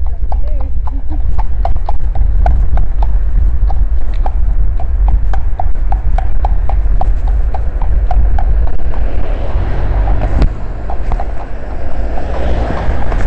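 A horse's hooves clip-clop in a steady rhythm, loud and close, as it passes a motorbike on a road. Wind buffets the microphone throughout, and a rider talks over the hoofbeats.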